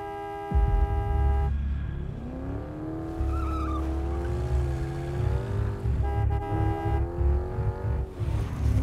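A car horn blares in long, loud honks, stopping and starting several times amid engine noise and a squeal of tires, in a Hindi-dubbed movie scene.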